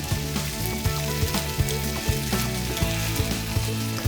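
Lamb with cumin, coriander and garam masala sizzles loudly in a spicy masala paste, a steady close frying hiss with light stirring scrapes throughout.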